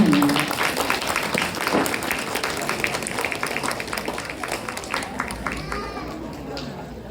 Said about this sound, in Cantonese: 請大家俾熱烈嘅掌聲，我哋嘅小朋友。